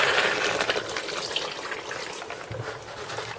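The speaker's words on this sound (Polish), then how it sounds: "Teraz zalewam około pół litra wody." About half a litre of warm water pours into a pan of browned pork neck cutlets, a close, steady splashing and gushing that fills the pan, then eases slightly toward the end.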